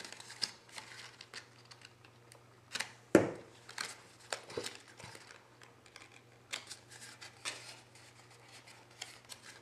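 Cardstock is creased and pressed flat while a gift box is made, giving soft, scattered papery taps and rustles with one sharper knock, heard close and fairly quiet, without any voice.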